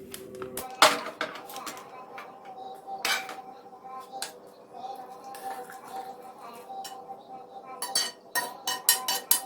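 Cooked green chillies moved from a pan into a bowl with a spoon, heard as repeated clinks and scrapes of metal on cookware, close and uneven, thickening into a burst of clatter at the end.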